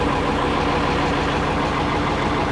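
An M35 A1 REO 6x6 military truck engine idles during winching, a loud, steady, close diesel rumble with a constant rapid knocking pulse and no voices.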